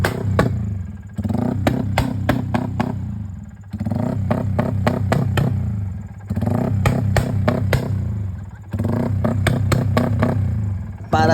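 Motorcycle engine warming up, a close, loud idle broken into repeated revving bursts of about two seconds each, with short dips between them and a clattering mechanical edge.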